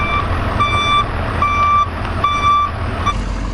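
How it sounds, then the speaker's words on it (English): A portable toilet rental truck reverses with loud, evenly spaced electronic backup beeps, about five pulses over a steady diesel engine rumble nearby. "The potty truck's here."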